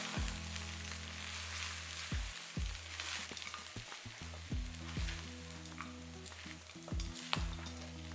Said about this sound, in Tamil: இந்த சூட்லேயே நம்ம சாதம் வந்து கிளறிடலாம்